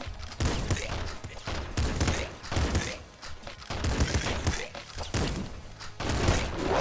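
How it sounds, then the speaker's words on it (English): Shotgun blasts in the roguelike shooter Nuclear Throne, firing in rapid, loud bursts that overlap with busy game sounds and impacts, forming a continuous dense barrage. "I like the shotgun a lot."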